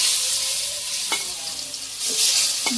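Loud, dense sizzling of pointed gourd frying in oil in a kadai, with a few brief scrapes of a spatula against the pan.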